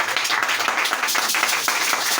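A church congregation claps to acclaim the Lord: loud, dense applause from many hands, sustained and steady throughout with slight rhythmic pulsing, no talking over it.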